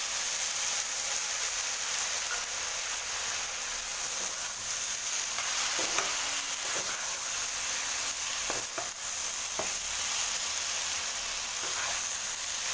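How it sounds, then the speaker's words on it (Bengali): Coriander leaves and ginger paste being stirred in a frying pan, giving a steady, moderately loud sizzle and fry with a few scraping taps of the spoon against the pan, no talking. "এটা আমি অ্যাড করে দিলাম এটা খুব ভালো করে এবার নাড়াচাড়া করবো"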